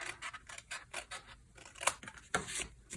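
Scissors trim glued cardstock for a handmade beach card in a run of quick close snips, with crisp clicks and brief gaps between cuts and no talking.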